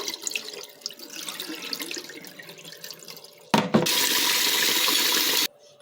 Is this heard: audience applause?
no